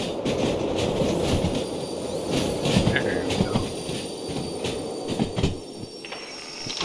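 A train brakes to a stop in the Derail Valley simulator game while shunting with a steam locomotive. Rumbling rail noise comes with scattered metallic clanks and faint squeals, fairly loud and continuous throughout.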